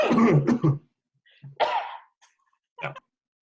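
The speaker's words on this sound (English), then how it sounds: "Let's cough into our elbows." A few sharp coughs, first a quick cluster close together, then a longer single cough and one final short cough, close and loud with silence between.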